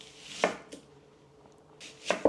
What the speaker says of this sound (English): So I'm roughly cutting the onions and the carrots too.